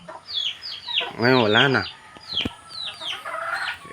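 Chickens cluck and squawk in short repeated bursts near pig pens on a small farm, with one louder drawn-out call in the middle and a person speaking briefly.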